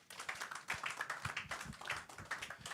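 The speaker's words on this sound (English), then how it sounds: "Please keep the applause going for Mr. Ni Yusuf" Faint applause from the audience at the Nigerian Economic Summit Group's 2024 Macroeconomic Outlook launch, a soft patter of many hands clapping steadily for a couple of seconds, heard from a distance.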